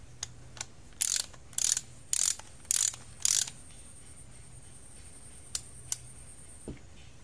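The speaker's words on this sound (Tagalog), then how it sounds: "Tapos ito ulit socket wrench na pamihit." Socket wrench ratcheting while working on the front shock fork of a Yamaha XMAX 300 scooter during an oil seal change, five quick bursts of clicking followed by a few isolated clicks, close and alone.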